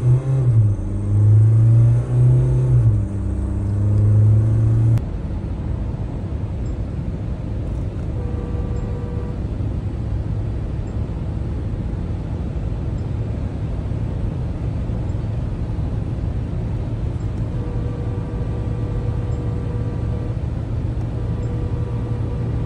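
Mahindra Scorpio N diesel automatic with 4x2 drive accelerating hard toward top speed, a steady loud engine drone and road rumble from inside the cabin, with a rising engine note at the start and no talk.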